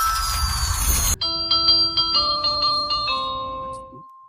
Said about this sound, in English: There's that doorbell again.